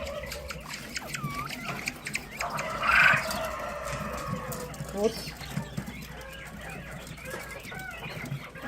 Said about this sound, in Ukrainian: Це перепілочки нова партія, їм трошки більше місяця